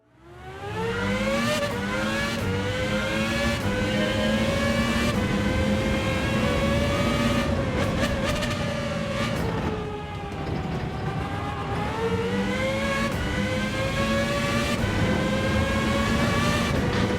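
An F3500-B race car with a swapped engine in Gran Turismo 7 screams at high revs, rising through gears with brief drops in pitch at each shift, loud and sustained with no talk.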